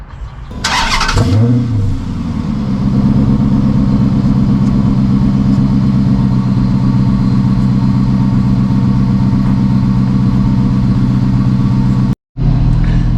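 A warmed-up Dodge Magnum engine idles on stock cast iron manifolds, stock tailpipe and pass-through mid mufflers, a steady close, loud low rumble after a brief start-up burst, with a short cut near the end.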